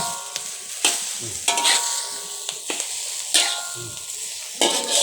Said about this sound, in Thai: ทอดไข่แบบแห้งๆนี่แหละมันอร่อยท่านว่าเออ